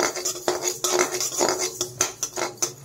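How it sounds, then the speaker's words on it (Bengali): A metal utensil scrapes and clinks against a wok while dry-roasting panch phoron spices without oil, repeated stirring strokes in a steady rhythm, close and fairly loud. "এবার কড়াইয়ের মধ্যে আমি সামান্য পরিমাণ 5 ফোড়ন ভাজবো"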